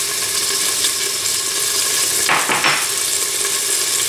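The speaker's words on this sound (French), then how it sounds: "Je la mets dans l'huile d'olive. Je mets de l'ail pilé également frais" Crushed fresh garlic frying in hot olive oil in a pan, a loud constant sizzle with a brief scraping clatter of a utensil near the middle.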